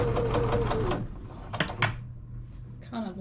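A sewing machine stitches long quilt strips at close range for about a second, then halts, followed by clunks and handling noises as the fabric is moved, with a brief voice near the end.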